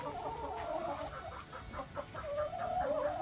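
Backyard chickens clucking close by, a busy run of short, overlapping clucks and murmurs with no talk over them.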